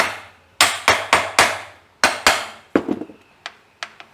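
A hammer pecks sharply on a 1940 coupe, about a dozen crisp metallic strikes in quick irregular bursts, close and loud at first and then lighter and more spaced taps toward the end.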